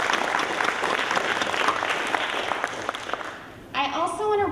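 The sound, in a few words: audience applause at a panel event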